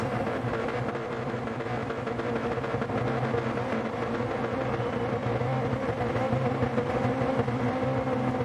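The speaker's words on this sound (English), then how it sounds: "I hear like the cars revving and people are just trying to like burn fuel off." Race car engines rev continuously in Gran Turismo Sport at Suzuka, a dense, steady layered engine drone from several cars before a spec race.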